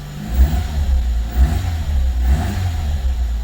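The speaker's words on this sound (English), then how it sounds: "Give her a minute to get warm and then we'll give her a bit of a rev." A classic Renault 5 engine, fitted with new parts, revs in several rising and falling bursts over a low, throbbing idle, close by and fairly loud, with no talking.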